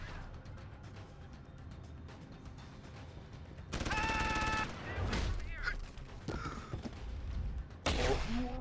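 A shotgun fired in the video game Deus Ex: Human Revolution, one loud, sharp burst with a brief ringing tail, followed by softer game sounds and clatter.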